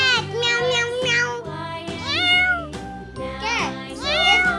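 Sung cat meows in a children's ABC phonics song, several drawn-out meows in a melodic voice over steady musical accompaniment; a voice imitating the cat rather than a real animal.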